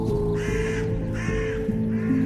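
Crow caws in a horror mod of a video game: three loud, close, harsh calls spaced about half a second apart over a low steady background drone.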